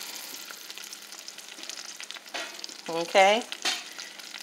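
Vegetables sauté in a pan on low heat, a soft steady sizzle running throughout, with a short spoken word and a brief voiced sound partway through.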